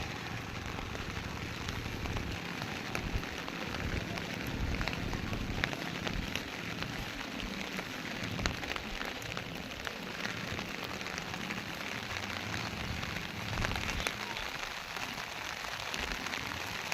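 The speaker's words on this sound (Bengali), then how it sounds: "দেখছেন বৃষ্টির ফোঁটা" Steady rain falls on a rainy day near a market, a dense, even patter of raindrops hitting surfaces that continues without pause and is fairly loud throughout.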